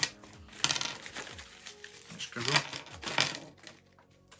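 Small metal coins or badges rattle and clink inside an unpacked lost parcel, several bright jingling bursts up close, with a person speaking briefly.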